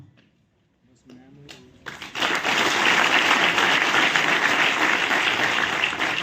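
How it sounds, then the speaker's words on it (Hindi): A large audience at an athletics honouring event bursts into sustained, loud applause for a coach, rising after a brief quiet moment and a few scattered claps, then holding steady and dense. "उनका भी हम जोरदार तालियों से अभिनंदन और सम्मान करें"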